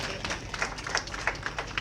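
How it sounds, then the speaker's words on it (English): Brief applause from a crowd at a community event at the Kenya National Museum, a short, soft patter of scattered claps heard at a moderate distance. "Another round of applause at the end."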